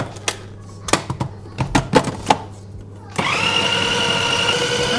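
Scattered knocks and clunks of ingredients being handled give way to an electric food chopper whirring steadily and loudly as it chops spring onion and lime leaves.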